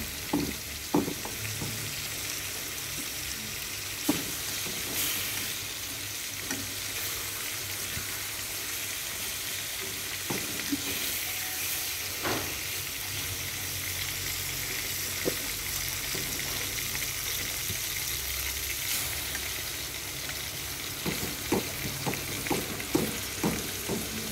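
Pork cutlet fries in a small pan with a steady, loud sizzle and crackle that lasts throughout, with occasional sharp pops and clinks from stirring.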